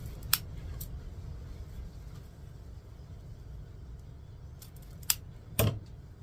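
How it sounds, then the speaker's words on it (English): Scissors snip satin ribbon at an angle during wreath making, giving a few sharp, brief cuts spaced several seconds apart, close but quiet against a soft steady room hum. "These satin ones, I'm just going to cut at an angle."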